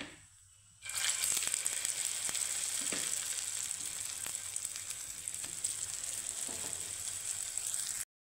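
Cauliflower kachori deep frying in hot oil, a steady close sizzle and crackle that starts after a brief quiet moment and continues evenly throughout.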